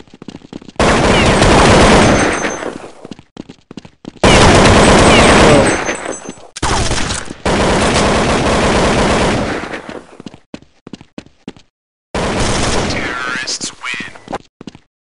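Loud bursts of automatic gunfire from the video game Counter-Strike 1.6, coming in several long sustained volleys separated by brief pauses, with shorter scattered shots between them.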